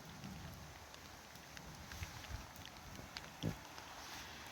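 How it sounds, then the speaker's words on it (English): Rain beating on and over a camera outdoors, a steady broadband hiss of drops with a few louder close splats and thumps, no voices. "That was literally the camera being blocked by the rain."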